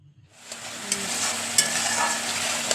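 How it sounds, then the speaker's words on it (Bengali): A curd masala of sour yogurt with salt and turmeric sizzles loudly in a pan as it is stirred for doi katla fish curry; the steady hiss rises after a short silent start, with no voices. "এবার একটু নাড়া দিয়ে নেব।"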